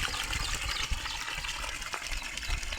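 Water running out steadily for cows to drink on a farm, a continuous close gushing flow without voices.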